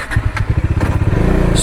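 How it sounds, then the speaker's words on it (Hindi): A Bajaj Dominar 400 motorcycle with a 373.3 cc engine runs while riding, its loud, close engine pulsing in a steady, rapid throb with no talk over it. "चलो आप सभी ने गेस कर ही लिया हुआ है कौन सी बाइक है, डोमिनार 400।"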